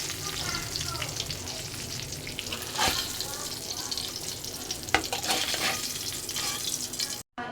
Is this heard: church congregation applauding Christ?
no